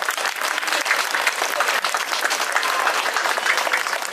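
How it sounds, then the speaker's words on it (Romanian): An audience at a Christmas fair applauds children waiting to go on stage, a close, dense wash of clapping that stays loud and even throughout with no talking over it. "vă rog să aplaudăm în primul rând pe acești copii care așteaptă cu nerăbdare să intre pe scenă"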